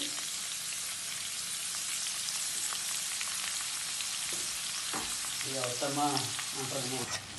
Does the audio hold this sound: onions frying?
yes